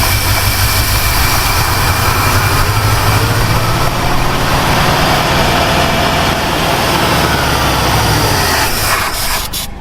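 1960 Ford Falcon Ranchero engine, sitting unused for 20 years, running loud and close with the throttle feathered, its rough roar rising and falling in uneven swells over about ten seconds.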